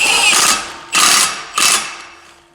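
Impact wrench driving a clutch bolt on a CFMOTO CFORCE 1000 ATV, three loud close hammering bursts, each trailing off before the next.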